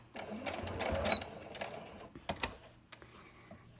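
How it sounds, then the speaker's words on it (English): Sewing machine stitching down the edge of a fabric face mask past its elastic, a steady close whir in a short run followed by a few lighter clicks and bumps. "sew down this edge, making sure you don't hit that elastic"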